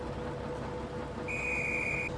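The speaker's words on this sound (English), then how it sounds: "He sadly got on his way when the whistle blew." A steam engine whistle blows on a railway, a steady high tone that comes in partway through and holds to the end over a low background rumble.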